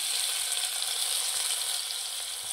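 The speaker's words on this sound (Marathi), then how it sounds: "तेल चांगलं गरम झालं की त्यात आपल्याला सगळ्यात अगोदर आपण जो कांदा कापून घेतलेला तो कांदा टाकून घ्यायचा।" Chopped onion dropped into hot oil for a val birde curry sizzles in a steady, bright hiss with a few faint stirring taps, moderately close and without talk.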